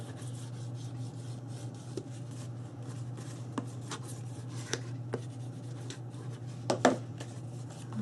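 Soft, steady rubbing of a burnishing tool over paper on a dog house box mini album, with a few sharper scrapes and taps, all against a low constant hum.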